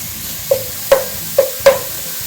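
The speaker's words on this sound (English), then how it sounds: "as you can see down in there, it's sizzling" Sausage fries in a pan, with four sharp sizzling bursts spaced roughly half a second apart over a quiet background, close and fairly loud.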